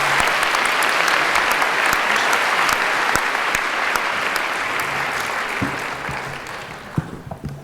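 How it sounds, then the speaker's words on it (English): An audience at a 66th commencement ceremony gives the incoming speaker a warm round of applause, dense and sustained at first with sharp individual claps on top, then slowly thinning and fading toward the end. "Let's give him a wonderful round of applause."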